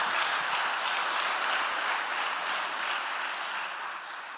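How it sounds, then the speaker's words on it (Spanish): A church congregation claps in steady, broad applause that fills the room at even loudness and tapers slightly at the end, no speech. "Puedes darle un aplauso fuerte al Señor por lo que Él ha hecho por nosotros."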